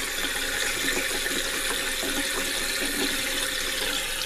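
Water pouring and trickling steadily through a handmade coil basket, a continuous splashing hiss like running water into a sink, fairly loud and unbroken with no talking.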